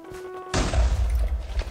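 A blocky Minecraft explosion bursts suddenly after a faint hum, a loud deep boom that rumbles on with crackling debris for over a second.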